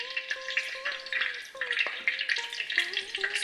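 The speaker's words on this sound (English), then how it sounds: "Once oil is hot, you can put 5 pieces of clove into it." Five cloves frying in hot ginger-infused oil, a close crackling sizzle with bursts of spattering over faint tonal lines.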